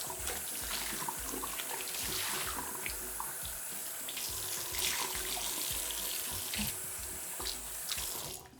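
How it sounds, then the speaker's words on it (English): Water runs from a bathroom faucet while the counter and tap are rinsed, a steady close hiss and splash lasting several seconds, with small shifts as the flow hits different surfaces. "Now I'm going to rinse the counter and this part, the faucet."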